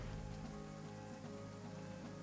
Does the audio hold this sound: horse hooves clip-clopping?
no